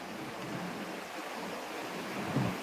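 Rain falling outside during an online Tongits card game session, a steady broadband hiss that stays even and moderately loud throughout, with a small bump near the end and no talking.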